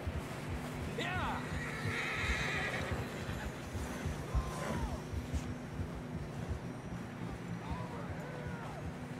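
Horses neigh and whinny in Red Dead Redemption 2, with a few shrill rising calls over a steady bed of hoof clip-clop and ambient rumble, continuous and fairly close throughout.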